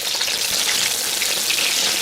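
Scallion and ginger hitting hot oil in a wok for a stewed home-raised rooster dish, a loud, continuous hiss and crackle of frying throughout.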